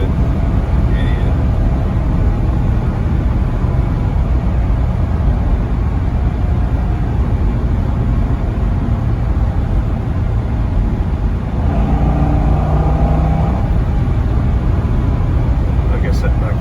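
Manual base C6 Corvette with an LS2 V8 driving on a sunny day, its engine droning loud and close with a steady low rumble as it pulls through the gears, a faint rise in revs midway.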